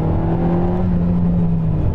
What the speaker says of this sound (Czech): Teď se přehodím do toho režimu sport, už začíná vejfuk bublat.